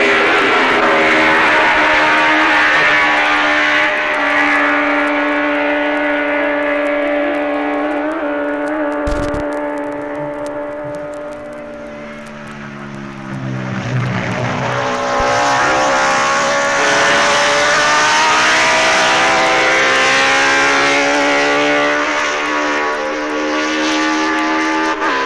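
Two racing motorcycles at the Isle of Man TT pass close together, their engines blaring loudly as they sweep by. The roar dips mid-pass, then surges back up as both bikes scream onward.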